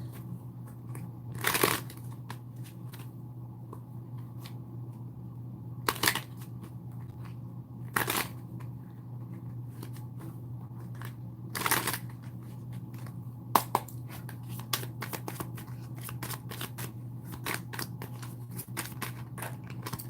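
Guidance cards are shuffled, with repeated crisp riffling bursts and scattered soft card clicks over a low steady hum, fairly close and quiet, without talk.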